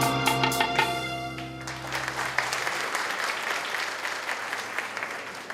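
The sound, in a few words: audience applause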